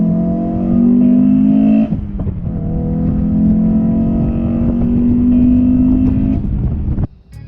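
A Honda S2000 sports car engine running loud and steady, a strong droning hum that holds, briefly dips around two seconds, then carries on before cutting out near the end.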